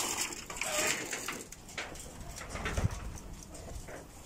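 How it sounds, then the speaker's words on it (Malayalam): Pigeons kept on a farm in Jizan, Saudi Arabia, coo softly amid a busy outdoor hiss and rustle, with a brief louder thump near the middle. "ഇതൊക്കെ ഫാമിലുള്ള പ്രാവുകളാട്ടോ"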